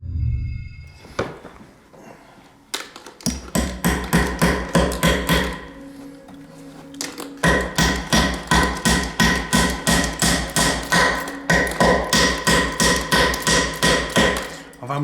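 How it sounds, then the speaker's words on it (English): Sharp hammer blows ring out in a haunted museum, first a few scattered strikes, then long runs of fast, even, loud hits with short pauses between bursts. "I've hammered it in."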